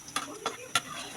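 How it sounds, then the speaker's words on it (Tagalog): Chopped garlic tossed into hot cooking oil in a pan, sizzling close by with a few quick stirring clacks of a utensil against the pan. "mainit na yung mantika, ilagay mo ang bawang."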